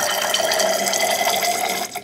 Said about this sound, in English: I'm going to add deionized water to each to make a solution